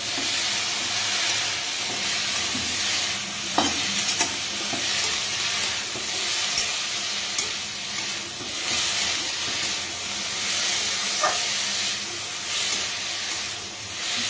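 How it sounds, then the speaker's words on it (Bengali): Pumpkin and bottle gourd leaves with turmeric, coriander powder and salt are stirred in a hot pan, giving a continuous sizzle and hiss broken by occasional scraping knocks of the spoon. "লবণ দিয়ে আবারও নাড়াচাড়া করে নেবো"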